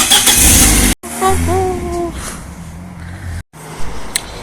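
A car engine starts as the driver heads off from a rural homestead, with a loud burst, a rising crank and catch, then a quieter steady running hum, with a faint voice in the background.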